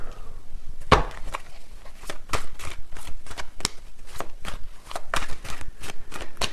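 Tarot cards are riffled and shuffled by hand in a rapid series of crisp, sharp flicks and slaps, close and fairly loud, repeating in quick irregular bursts with no talking.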